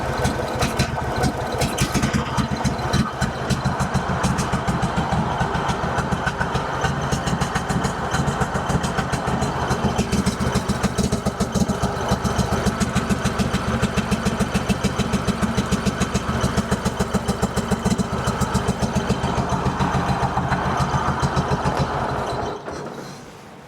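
Kohler Command engine on a Craftsman GT5000 garden tractor runs steadily with one spark plug pulled, a continuous loud, uneven drone throughout that cuts off at the very end.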